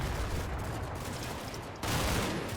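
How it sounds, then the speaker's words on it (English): Continuous war-game gunfire from Combat Mission Red Thunder, a squad shooting from upstairs at a 45mm AT gun, a dense steady rattle of shots that swells louder near the end. "immediately started firing at the"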